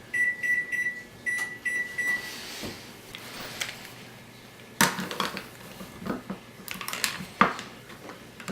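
An oven timer beeps in a short run of quick, high electronic tones at the start, followed by faint kitchen clatter and a couple of sharp clinks.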